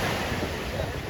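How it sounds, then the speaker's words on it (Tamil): Strong sea waves at an ECR beach make a dense, continuous roar of surf, loud and close, with some wind buffeting mixed in. "அலையும் ரொம்ப அதிகமா இருக்கு"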